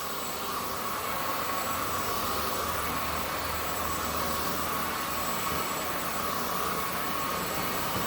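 A Zoker A10 Pro vacuum cleaner runs continuously, a steady whooshing motor drone with a faint high whine, moderately loud and close, unbroken for the whole stretch with no talking.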